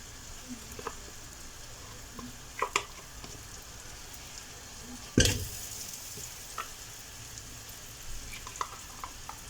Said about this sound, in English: So I'll put 4 tablespoons of butter to melt.